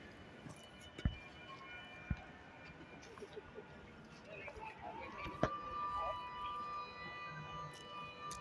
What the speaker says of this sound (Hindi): दुश्मन देश के जहाज इस तरफ आ रहे हैं जिसका सायरन हमारे कंट्रोलर द्वारा बज किया गया।